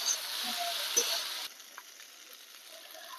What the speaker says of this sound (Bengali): ডাঁটা দিয়ে আমি আরো এটাকে কিছুক্ষণ ভাজবো।